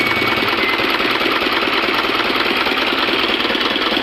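An Isuzu 4HL1 diesel engine with blow-by and a smoking dipstick runs at a steady idle. A constant, even clatter and drone holds up close, with no talking over it.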